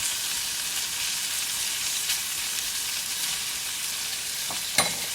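Beef liver stews in a pan on a stove with a steady, bright sizzle and bubbling hiss throughout, a small clatter near the end.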